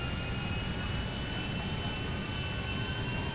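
Airplane engine in GTA 5 roaring as a steady, loud broadband drone that fills the whole moment with no letup, alone with no voices over it.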